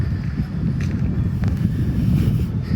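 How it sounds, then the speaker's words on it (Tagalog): Wind blows steadily through Parque de Madrid in Spain, a constant low rumbling buffet against the microphone with faint footsteps, no talk. "baka naririnig nyo rin yung hangin"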